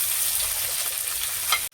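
Chopped onions fry in hot oil for a pasta dish, giving a steady close sizzle with faint stirring scrapes and a brief louder crackle near the end before it cuts off.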